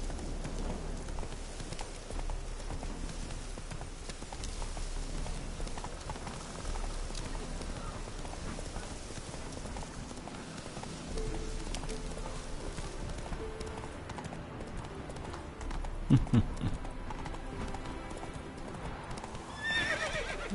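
Rhythmic hoofbeats of a galloping horse in The Witcher 3 on PS4, with a whinny near the end, set against a steady ambient bed; a voice speaks over it.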